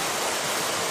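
A waterfall pours into its plunge pool, throwing off intense spray, heard as a loud, steady, unbroken rush of splashing water up close.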